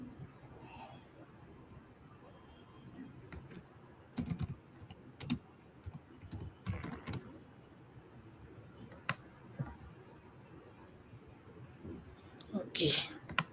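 A computer keyboard is typed on in scattered bursts of quick clicking keystrokes, irregular and fairly close, while a person talks quietly in between.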